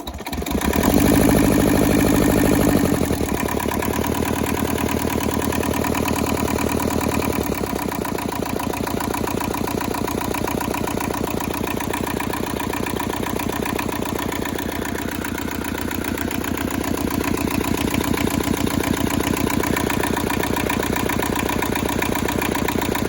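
An old, rusty Hinomoto tractor engine, freshly repaired with its throttle lever reconnected, chugs at a steady idle close by, with a throatier rise in the first few seconds before settling into an even run.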